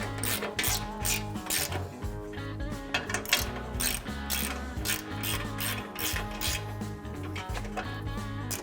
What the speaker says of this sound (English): so all we need to do now is tighten it down for real.